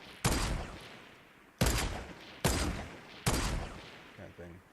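Four sharp, loud gunshot bursts from a PS4 shooter game, each fired with a modded DIY controller, spaced about a second apart with a decaying tail after each, then a brief tonal game sound at the end.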